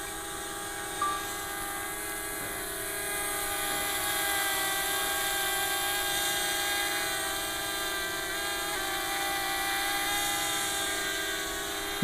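Steady high-pitched whine of a DJI Mavic Mini drone's propellers holding a fairly even level as it flies off, a thin continuous buzz with no talking.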